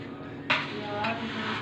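Paneer cubes tipped into a frying pan of onion and tomato and stirred, with a brief scrape and a rise in sizzle partway through over a steady low frying hiss.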